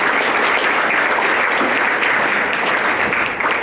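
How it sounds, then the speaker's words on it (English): Audience applause for committee members at a 2019 college athletics Hall of Fame induction ceremony, a steady, dense clapping from a large crowd that holds at full strength throughout. "let's thank all of the committee members and give them a round of applause"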